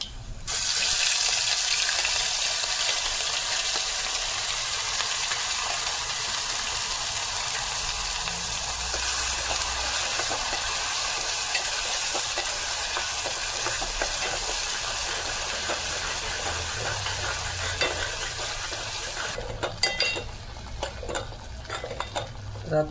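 Masala paste for a Marathi mackerel curry frying in a pan, a continuous loud hiss and sizzle with scraping stirring noises throughout, easing slightly toward the end amid clattering.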